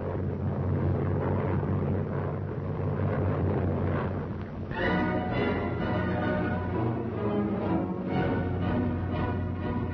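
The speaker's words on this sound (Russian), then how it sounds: "Идет к земле горящий Мессершмитт." A burning German Messerschmitt fighter plane going down over the Vistula in wartime newsreel footage gives off a rough, roaring engine drone, joined partway through by a loud tonal soundtrack that continues to the end.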